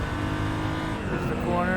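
A BMW M235i Racing car's engine labours at low revs in fourth gear at Sepang, a loud, deep, rumbling drone with strong layered harmonics that rises slightly toward the end as a driver talks over it.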